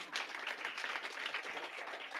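A meetup audience claps after a talk, with a steady, fairly faint patter of hands that runs briefly with no speech over it.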